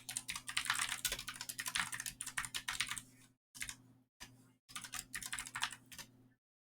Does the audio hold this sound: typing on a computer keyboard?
yes